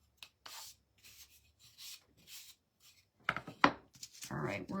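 Hand sanding of cedar boards, with short rhythmic scraping strokes of sandpaper on wood repeated at close range, growing louder and rougher toward the end.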